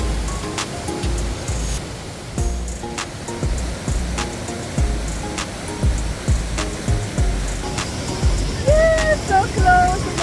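Triberg waterfall in the Black Forest, Germany, rushing water making a constant broadband roar up close, with footsteps, clicks and a few voices and whistles from visitors over it.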